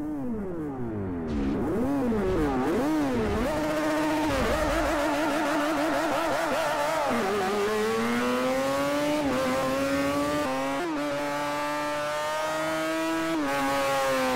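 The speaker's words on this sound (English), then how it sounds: "2-litre naturally aspirated 3-rotor engine." A Mazda race car with a 2-litre naturally aspirated 3-rotor rotary engine screams through repeated high revs and gear shifts in a racing video game, loud and continuous with no talk.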